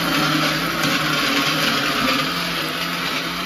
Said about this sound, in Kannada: ಮಿಕ್ಸಿ ಹಾಕ್ತಾ ಇದೀನಿ